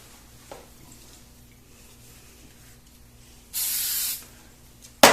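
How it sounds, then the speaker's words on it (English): A spray bottle mists the purple fabric piece for a kite applique, one sustained hiss of about half a second in a quiet room, followed by a second short burst at the very end. "I'm just going to go ahead and spray this whole thing,"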